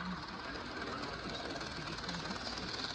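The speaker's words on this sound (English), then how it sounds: "let you guys see it run for a minute" A rare HO scale Bachmann BQ23-7 model locomotive in Family Lines SCL livery runs with a steady, fine mechanical whir and buzzing motor hum, continuous and close without pauses.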